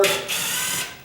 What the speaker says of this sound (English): This is an impact drill, and the first thing I got to do is just take these screws out